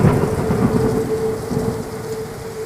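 Heavy downpour as a sound effect, a loud, continuous hiss of rain with a low rumbling undertone, steady throughout without voices.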